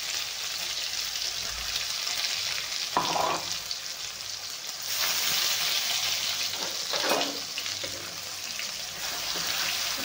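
Curry leaves crackle in hot oil for a ridge gourd curry, a constant moderate sizzle with a couple of brief stirring scrapes.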